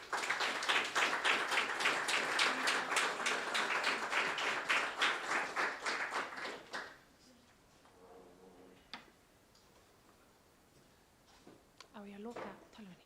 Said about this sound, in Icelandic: Gefið henni gott klapp.